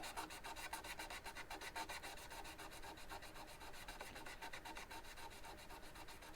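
Steady, fast back-and-forth rubbing of folded abrasive across guitar frets on a Monoprice Indio Boardwalk, polishing out burrs within a fret protector; close, continuous rasping with even rhythm and no voices.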